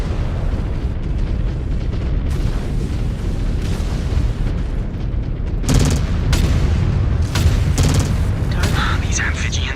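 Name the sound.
cannon and autocannon fire in MechWarrior 5: Clans video game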